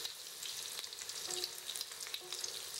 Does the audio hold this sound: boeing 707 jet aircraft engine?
no